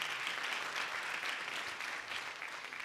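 A church congregation applauds during a Sunday service, a steady, dense wash of clapping hands that holds at an even level throughout with no talking over it.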